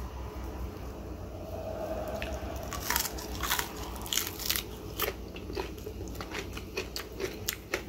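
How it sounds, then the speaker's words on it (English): Crispy fried Lao-style beef jerky, made with ginger, is bitten and chewed close up. Loud irregular crunches and crackles come over a low background hiss, and no one speaks. "Still get that crunch on the outside."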